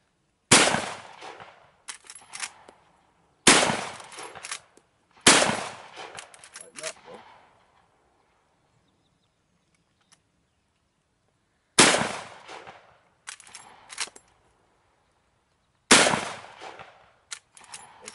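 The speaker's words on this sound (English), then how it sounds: "when I shoot the Winchester baby, I'm gonna be shooting this next" A Winchester rifle fires five loud, sharp shots outdoors, spaced irregularly with long quiet gaps between them, each crack followed by a short echoing tail.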